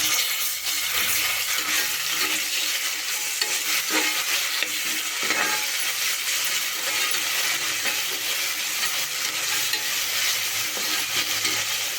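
Ginger garlic paste is stirred and fried in a pan for veg biryani, with a spoon scraping and clinking against the metal over a continuous hiss of sizzling oil, close and steady.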